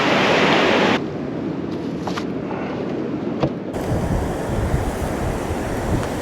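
Small, gentle Pacific Ocean waves wash in on a calm day, a soft continuous surf hiss with light wind noise buffeting the microphone, no talk.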